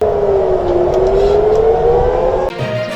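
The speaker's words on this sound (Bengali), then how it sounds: "ইসরায়েলের তেল আবিব এবং জেরুজালেমে সতর্কতামূলক সাইরেনের শব্দ শোনা গেছে" Civil defense warning siren in Israel wailing loud and steady in a single rising-and-falling tone, continuous for nearly the whole clip before cutting off abruptly near the end.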